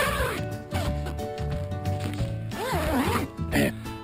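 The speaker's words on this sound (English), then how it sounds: "so this is what it looks like when you zip it all down" Zipper on the vestibule flap of an REI Basecamp 6 tent being zipped down in several quick pulls, close and clear, with someone talking over it.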